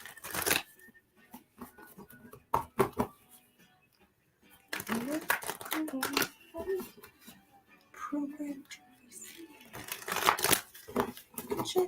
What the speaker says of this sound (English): these cards that I'm shuffling right now